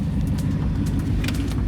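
Supercar engine with a new aftermarket exhaust, a deep loud rumbling idle close by, steady and throaty with small revving pulses.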